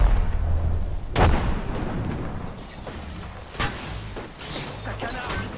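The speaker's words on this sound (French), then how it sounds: "Grenade frag lancée." A frag grenade detonates in a video game match. A sharp, close boom lands early, followed by more bursts and impacts under a busy game soundscape.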